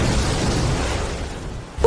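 An explosion sound effect for a spell in a Thai manga dub: a broad, heavy blast that rumbles and slowly decays, with no talking.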